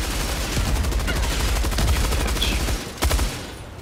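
Rapid gunfire from the game Helldivers 2, a dense, continuous stream of loud shots with a brief lull and a final burst near the end.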